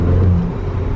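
A Volkswagen Polo with its largest engine, around 200 horsepower, revs loudly and close by in Monaco, holding a steady engine drone with a higher whine that drops off partway through.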